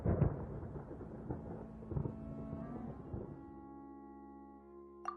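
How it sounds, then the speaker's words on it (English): Thunder in Genshin Impact: a low distant rumble that rolls and swells in several surges before fading into sustained ambient tones, with no talking. "Paimon hears thunder!"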